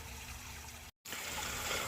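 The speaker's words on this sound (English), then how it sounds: "So I'm going to pour some into the bucket" Vigoro all-purpose garden soil pours into a bucket with a soft, continuous sandy trickle that cuts out for a split second midway and then resumes, quiet and close.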